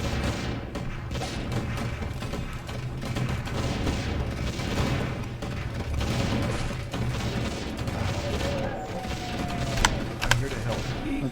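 Mortar teams fire artillery in Warcraft III Reforged, a dense, continuous barrage of booms and crashing impacts layered with battle noise, with a few sharper hits standing out near the end.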